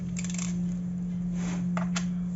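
Old American coins, including a two-cent piece, being handled, giving a few light metallic clinks and a brief jingle over a steady low electrical hum, no talking.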